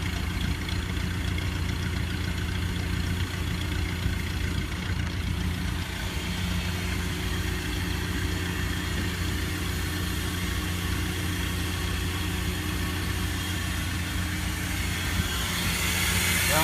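A 1969 Ford F-150 4-wheel-drive pickup idles on its small-block V8 with a 3/4 race cam, a steady low rumble that stays constant and close for the whole stretch, ending in a brief rising hiss.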